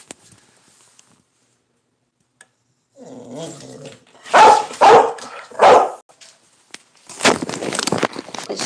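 A dog barks in a loud, close series of sharp barks and yips, clustered in bursts after a quiet opening, with a brief faint growl-like lead-in and no talking over it.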